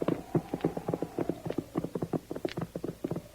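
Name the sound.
horses' hooves clip-clopping on a trail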